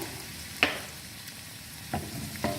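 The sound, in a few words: garlic and cumin sizzling in hot oil, stirred on low flame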